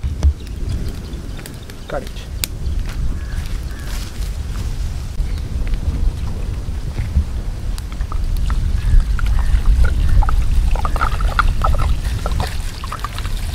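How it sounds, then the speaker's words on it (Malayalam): Water pours into a pot of clams in a steady, splashy stream, with a few clinks and a voice murmuring in the background. "അപ്പോൾ നമുക്ക് ഇതിലേക്ക് ഇനി കുറച്ച് വെള്ളം ഒഴിച്ച് കൊടുക്കണം"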